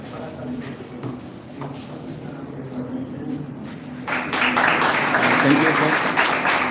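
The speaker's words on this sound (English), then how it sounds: "Please, student, please give the claps for looking this all eminent sociologist and professor sitting in your" Students applaud at a two-day national sociology seminar, a steady burst of clapping that breaks out partway through and fills the hall after a stretch of quieter room sound with voices.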